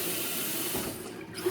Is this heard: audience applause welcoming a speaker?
no